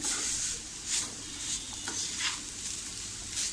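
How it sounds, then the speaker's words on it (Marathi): A coconut and sugar mixture being stirred in a pan for coconut burfi, with steady scraping strokes and a soft sizzle throughout, a few louder swishes standing out. "आता आपण याला असं ढवळून घ्यायचं आहे आणि छान असं सतत ढवळत राहायचं"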